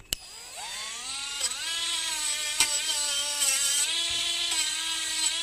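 Dremel rotary tool spinning a wire brush to scrub rust off the blade of old garden loppers, a steady high whine with shifting pitch and brief sharp contact bursts, close and continuous.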